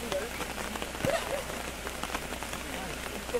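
Rain falls steadily in a hilly Konkan village as people head back to Mumbai after Ganpati, a soft continuous patter with scattered drops on surfaces, heard alongside faint background voices.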